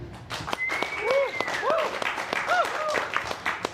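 A small audience claps for a storytelling show, with steady, close applause while voices talk and laugh over it.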